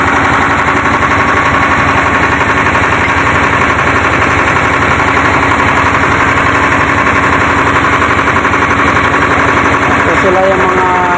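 A loud engine-driven water pump for a water supply project drones steadily and continuously at close range, with a rapid mechanical chugging throughout.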